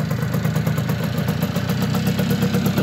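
A Yamaha FS1E moped's small two-stroke engine runs at a steady idle, with a fast, even buzzing pulse that stays close and constant throughout.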